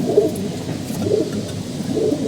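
Pigeons cooing close by, low throaty coos repeating roughly once a second, with no talking.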